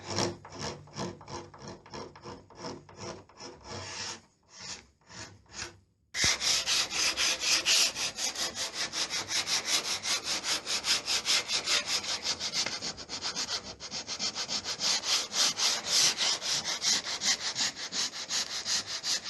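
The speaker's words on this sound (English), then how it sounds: "Just sand it and wax it." Hand sanding of wood with 240 grit sandpaper in a rustic shower room refit: quick rhythmic strokes at first, then steady continuous rubbing that is close and fairly loud, with no voices.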